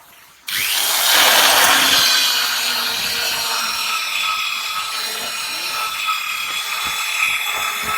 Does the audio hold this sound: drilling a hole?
yes